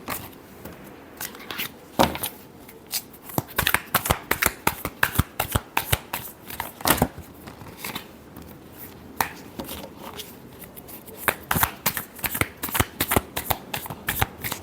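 Tarot cards shuffle close by in quick, crisp bursts of riffling slaps and flicks, irregular in rhythm and fairly loud, with short pauses between handfuls.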